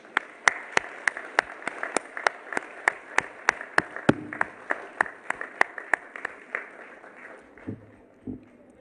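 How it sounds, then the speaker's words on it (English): A crowd at an Araw ng Kagitingan 80th anniversary ceremony claps for veterans in steady, unison rhythm, crisp regular beats that carry on for several seconds before thinning out and trailing off into quiet. "may I invite everyone to give a big round of applause to our beloved veterans"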